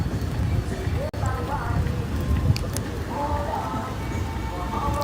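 Rain falls outdoors along a rural road in East Rural St Andrew, a steady, moderately loud patter with voices faintly audible over it.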